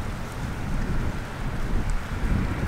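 Steady wind noise buffets a DJI drone as it flies into a strong headwind, a continuous loud, rushing roar with low rumble and no pauses or talking.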